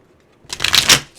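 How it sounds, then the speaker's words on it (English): A deck of tarot cards is shuffled close up, a brief crisp riffling flutter that starts after a short pause and fades quickly, with no talking. "Feel like doing one more shuffle"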